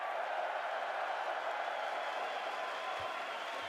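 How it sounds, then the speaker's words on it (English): Sustained crowd applause from the audience at an esports grand final, Counter-Strike at IEM Melbourne 2025, a steady wash of many hands clapping with a distant roar, continuous and fairly even throughout. "so please give a round of applause"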